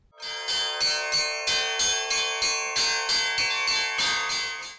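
Church bells in Lviv region ring out in a steady, repeating peal, each strike blooming with bright metallic overtones and long sustain, loud and close with no voices.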